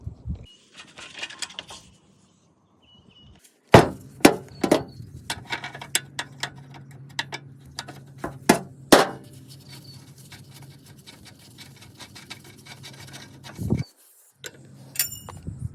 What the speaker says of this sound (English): Just pull these pins out, hammer them through